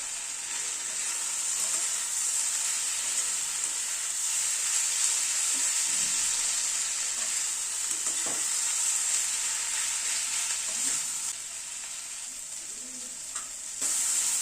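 Potato and capsicum with spices and Kashmiri red chili powder fry in a pan over a medium gas flame, giving a steady, close, bright sizzle throughout, broken by occasional soft stirring scrapes, with no talking.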